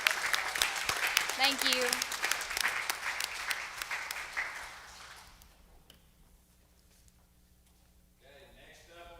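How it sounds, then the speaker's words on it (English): Loud clapping from a crowd fades out after several seconds, followed by a quiet pause and a brief spoken thanks. "let's give one more big round of applause"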